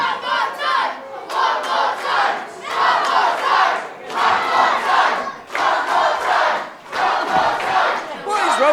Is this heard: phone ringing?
no